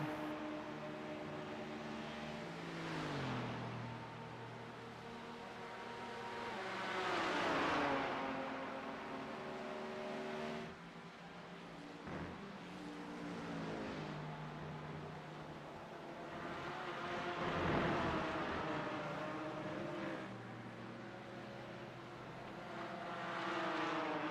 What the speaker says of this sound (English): Sounds like a GT3 coming here.